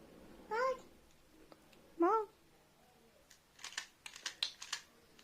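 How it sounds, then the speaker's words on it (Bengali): Two short, rising meows from a cat come about a second and a half apart in a quiet room, followed by a burst of light tapping and clicking. "আর বিড়াল"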